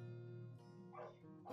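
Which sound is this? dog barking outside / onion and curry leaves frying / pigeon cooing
dog barking outside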